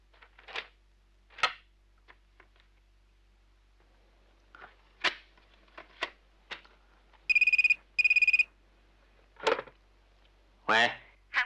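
A telephone rings for a call to Korea in an office scene, two short bright electronic ring bursts in quick succession, set among sparse spoken dialogue before and after.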